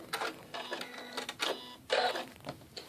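Sewing machine stitching a straight seam, close bursts of mechanical whirring and clatter that start and stop in short runs.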